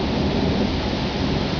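A summer thunderstorm over Mlynská dolina in Bratislava, with steady heavy rain and a broad, continuous rumble filling the whole clip at even loudness, no voices.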